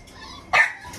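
A single puppy, one of a litter about 12 weeks old at a kennel, gives a short, sharp bark at close range, rising suddenly out of quiet background noise and fading within a fraction of a second.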